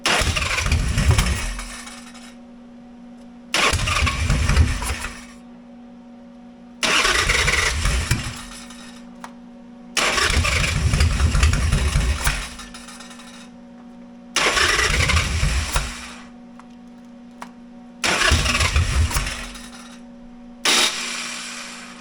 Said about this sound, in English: Well, it's backfiring.